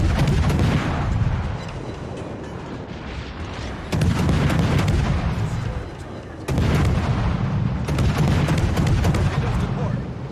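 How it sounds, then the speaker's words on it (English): Heavy naval guns boom in World of Warships as salvos hit a battleship, with loud repeated blasts at intervals and rolling rumble between them, while a voice talks throughout. "the rounds actually do damage because they're penetrating the thin armor located around the front end of the battleship"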